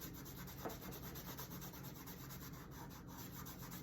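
A cloth buffs clear satin wax on a painted surface, a quiet, steady rubbing hiss with faint repetitive strokes up close and no voices.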